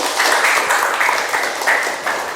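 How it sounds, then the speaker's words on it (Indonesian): A classroom of students applauds together, a dense, steady burst of clapping that fills the whole couple of seconds without pause. "Oke, kasih tepuk tangan dulu."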